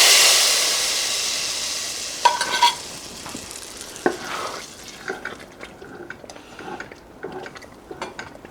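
Turmeric frying in oil in a pot of Lorestan eggplant ash, a fading sizzle under repeated scraping and knocking of a spoon stirring against the pot, close up with no talking.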